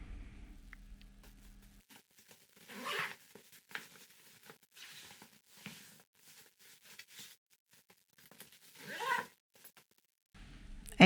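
A zipper runs along the front pocket of an Eastpak Tranverz S rolling holdall in several short, scratchy bursts with quiet gaps between them, close up, with no one talking.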